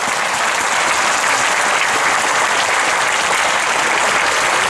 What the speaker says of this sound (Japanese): 皆さん拍手でご承認ください。